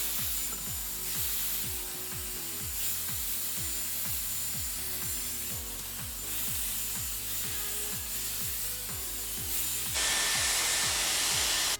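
A Dyson Airwrap hair styler blows steadily with its round brush attachment on shorter layers of hair, a continuous airy whoosh with soft rhythmic thumping beneath, growing louder and brighter near the end.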